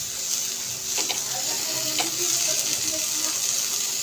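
Khecha cooking in a pan with coriander leaves added, a soft continuous sizzle and bubbling with a few clinks of a spoon against the pan, no talking.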